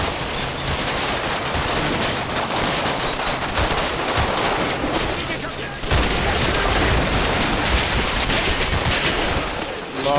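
Dense, continuous small-arms and machine-gun fire crackles in Combat Mission: Battle for Normandy, loud and unbroken with booming reports mixed in, briefly dipping midway before resuming.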